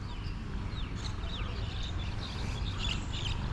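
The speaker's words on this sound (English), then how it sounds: "Lots of songbirds, not too many pigeons" Songbirds chirp and tweet in short, scattered calls on a Thailand morning, moderately distant over a steady low outdoor hum.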